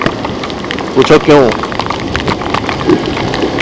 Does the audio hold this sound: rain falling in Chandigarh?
yes